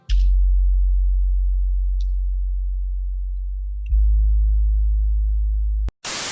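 A deep synth sub bass tone in FL Studio holds, then glides downward, jumps back up, holds again, and cuts off with a brief burst of noise at the end.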